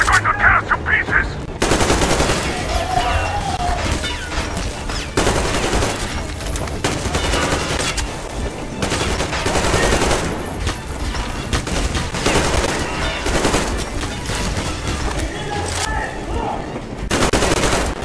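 Rapid automatic gunfire from the video game Metro Exodus, loud and close, with dense bursts and sustained fusillades over almost the whole stretch and short pauses between volleys.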